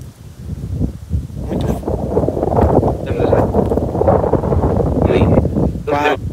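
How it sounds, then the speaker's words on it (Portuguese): Strong wind blowing outdoors in scrubby woodland, a steady rough roar buffeting the microphone throughout, with voices talking over it. "O vento começou a ficar forte aqui, ó."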